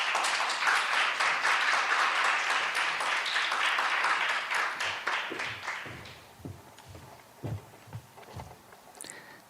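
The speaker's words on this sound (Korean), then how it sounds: "들어오실 때 큰 박수로 맞이해 주시면 감사하겠습니다." An audience claps to welcome panelists onto a conference stage, dense applause that holds for several seconds, then thins into scattered claps and fades out.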